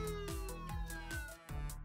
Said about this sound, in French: On a la sirène.